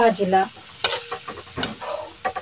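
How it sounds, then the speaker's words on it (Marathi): Sliced onion frying in oil for a wild forest vegetable curry, killu bhaji, with a soft sizzle and intermittent stirring scrapes, fairly close. "हा कांदा सुद्धा छान लालसर रंग येईपर्यंत तळून घ्यायचा आहे"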